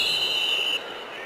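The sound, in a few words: referee whistles blowing at football game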